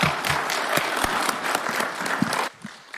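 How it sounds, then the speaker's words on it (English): At a live signing event for a last-mile connectivity project, an audience applauds with a dense, steady burst of clapping that drops off abruptly, leaving a few scattered claps. "Another round of applause for His Excellency."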